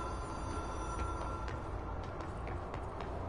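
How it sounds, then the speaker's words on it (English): A telephone rings faintly in the video game Control, a thin, repeating high tone set low beneath a steady ambient hum, with no talking. "I had the phone ringing."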